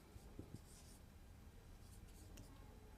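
A pen scratches out a few quick handwritten strokes during a Class 10 maths lesson on real numbers, faint and close against a quiet room.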